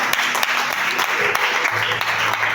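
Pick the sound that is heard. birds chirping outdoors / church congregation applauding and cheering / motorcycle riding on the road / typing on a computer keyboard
church congregation applauding and cheering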